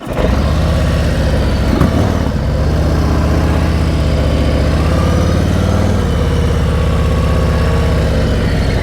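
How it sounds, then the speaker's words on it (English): A motorcycle engine runs at a steady low, even pitch during slow-speed riding practice, loud and close throughout with a slight lift partway through and no talking. "Listen to my engine, always the same."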